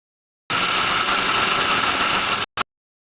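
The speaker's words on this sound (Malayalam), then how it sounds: "ഒന്ന് മിക്സിയിലിട്ടൊന്ന് കറക്കുന്നുണ്ട്" A mixer grinder grinding corn gives a loud, steady whirring motor hum for about two seconds, cuts off, then gives one brief final burst.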